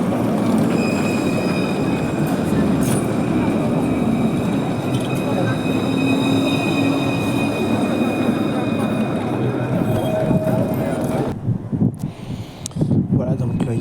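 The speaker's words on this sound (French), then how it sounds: "il y a une rame qui arrive, donc il a quitté le dépôt" A TAM line 1 tram pulls into the new Gare Sud station, its steady rolling rumble and wheel squeal filling the scene loudly and continuously before easing near the end.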